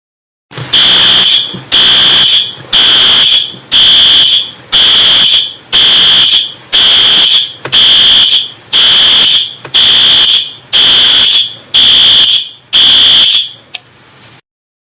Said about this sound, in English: I pulled the fire alarm at the post office